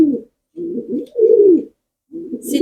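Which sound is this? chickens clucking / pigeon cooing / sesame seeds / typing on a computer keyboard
pigeon cooing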